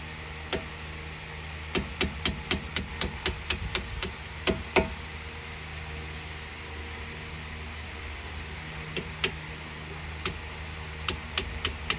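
Sharp metallic taps and knocks on the brake caliper pins of a Dodge Durango SRT come in quick clusters: a rapid run of a dozen close strikes, a pause, then a few more scattered hits over a steady background hum.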